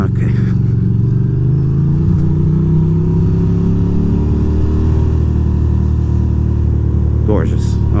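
A motorcycle ridden through New York City streets, its engine droning loudly and close with rising revs and shifting pitch, steady throughout, with a faint voice near the end.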